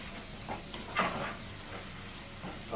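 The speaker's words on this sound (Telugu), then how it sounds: "ఇప్పుడు ఇందులోకి టమోటా ముక్కల్ని యాడ్ చేస్తాం." Tomato pieces going into mutton keema cooking over medium flame in a pan, a quiet steady sizzle with a brief stirring scrape near the start and softer frying after.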